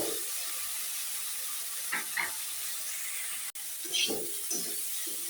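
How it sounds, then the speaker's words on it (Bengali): Coriander leaf paste frying in a pan with salt, a steady close hiss and sizzle running throughout with a few brief clinks of stirring and no talk. "এই যে আমি ভালোভাবে ভেজে নিতেছি।"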